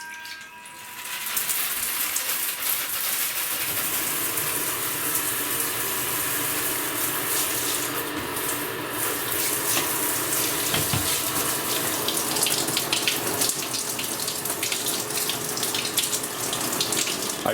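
Water runs steadily from an emergency hot shower setup, a constant loud hiss and splash that starts after a brief moment and continues unbroken for a long stretch, with no talk.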